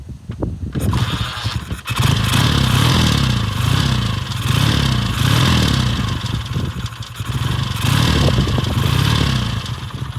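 A 1953 BSA A10 Golden Flash 650cc motorcycle is kick-started, a clatter and kick followed by the engine catching and running loud and steady, with rhythmic pulsing close by.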